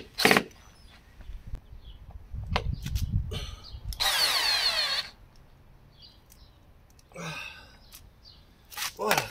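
Power drill driving screws while fitting launching wheels to a Zodiac SR230 inflatable boat, short whirring bursts with one longer whining run in the middle, mixed with clunks and knocks.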